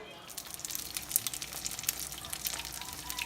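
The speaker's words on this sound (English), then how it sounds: "And there is the chicken lumpias. I'm just frying them in small batches." Chicken lumpias frying in hot oil in small batches, a soft continuous sizzle with scattered crackles and pops, fairly quiet and close, with no talking.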